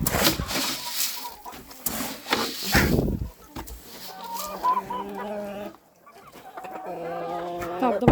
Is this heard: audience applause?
no